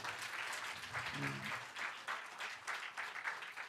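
A church congregation claps together in a quiet, fairly distant burst of rhythmic applause, with a brief voice rising in the middle.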